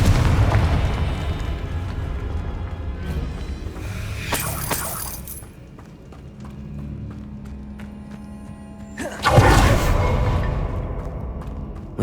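Confringo fire spell blasting in Hogwarts Legacy, exploring the catacombs: two loud bursts several seconds apart, each a sharp crackling blast with a short rumble, over a dense game soundscape.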